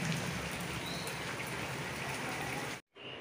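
Rain falls steadily in a dense, even hiss of drops on surfaces outdoors, moderately loud and continuous, ending in an abrupt cut to near silence.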